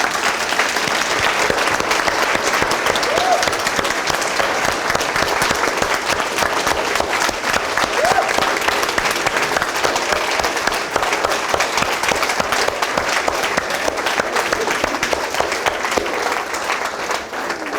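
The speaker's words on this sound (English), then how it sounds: "So please join me in a round of applause for these things." Sustained applause from a lecture audience fills the room, dense and steady for the whole stretch with no break, loud and close with a faint crowd murmur underneath.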